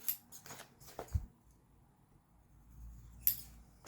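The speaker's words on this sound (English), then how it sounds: "I'm just taking my fabric scissors and cutting away all that extra." A few sharp snips of scissors cutting through fabric, spaced apart with quiet gaps between them.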